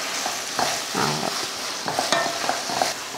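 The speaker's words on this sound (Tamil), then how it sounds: "தக்காளி மசாலா எல்லாம் போட்டு நல்லா பேஸ்ட் போல் வதங்கிருச்சு" Tomato masala with coriander, curry leaves and mint sautés in a pan, giving a soft hiss broken by several distinct scrapes of stirring.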